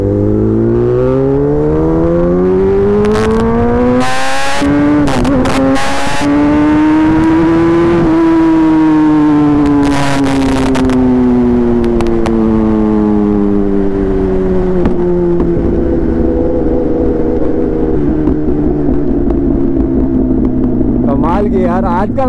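A Kawasaki ZX10RR sport motorcycle revs hard, its engine pitch climbing and falling through long sweeps, with sharp exhaust pops and crackles breaking through; loud and close, with a rider talking over it.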